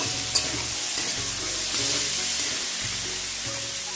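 Ginger sizzling and frying in a hot pan while cooking fried rice at home, a steady close hiss with occasional stirring scrapes and low rhythmic thumps underneath.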